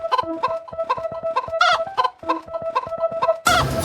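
A casino slot machine plays a loud, rapid run of electronic chicken clucks in a repeating rhythm that ends in a burst of noisy machine sound.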